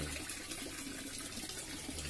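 A small garden fish pond with a running filter gives a steady close trickle and splash of water, continuous and even with no one speaking.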